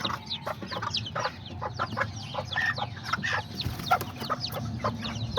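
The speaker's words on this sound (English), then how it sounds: "there's my silky little chicken" Silkie chickens cluck in a busy farmyard, a run of short, close, overlapping clucks and calls in uneven rhythm with no talking.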